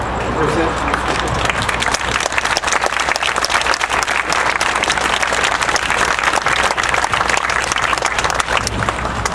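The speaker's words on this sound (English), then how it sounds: "give one more round of applause" Sustained audience applause fills an outdoor 9/11 memorial ceremony at a Los Angeles Fire Department fire station, dense steady clapping from a sizable crowd that continues evenly throughout with a faint low hum beneath.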